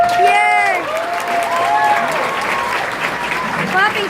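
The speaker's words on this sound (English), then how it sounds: "Clapping sound." Audience applause fills the hall at the G-Fest 25th anniversary opening ceremony, steady and loud crowd clapping with cheers, while voices talk over it.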